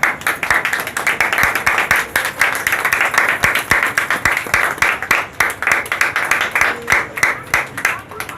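Audience at a human rights organisation's talent award ceremony claps steadily and loudly for several seconds, dense overlapping hand claps close by with no talk on top.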